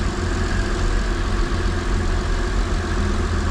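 An Acura TL six-speed running at its first start-up in two years, a loud, steady engine rumble with an even low throb and no talk over it.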